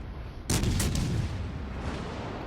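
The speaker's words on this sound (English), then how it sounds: "Warspite is firing at me here." Naval gunfire from a battleship in World of Warships Legends booms out as a sudden loud blast, then a rumbling roar that stays heavy and dense to the end, with no voice over it.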